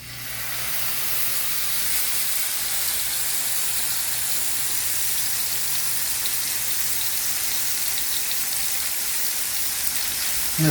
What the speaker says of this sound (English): I'm going to sear in all those juices before we put it in the oven.